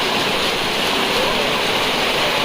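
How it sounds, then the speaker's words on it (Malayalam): Heavy rain pours steadily during a monsoon trek to Dudhsagar waterfall, a dense, continuous wash of water with no pauses, loud and close throughout. "ഭയങ്കര മഴയാണ്."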